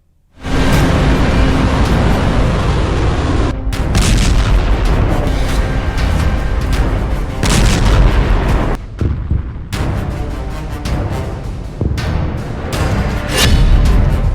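Ballistic missile strike on a US military base in Qatar: loud, continuous booming blasts and rumbling detonations, densely overlapping with sharp cracks throughout, no speech.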